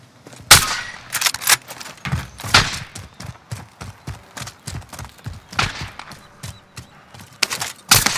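Repeated gunfire in a tactical military shooter game, sharp shots and short bursts scattered across the whole stretch, loud and close, with no talk over it.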